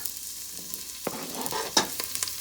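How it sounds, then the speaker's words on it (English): Fresh ingredients hit warm oil for a dried anchovy or dried mullet dish, giving a steady close sizzle with a few sharp crackles and utensil clicks over the hiss. "We're gonna fry these up."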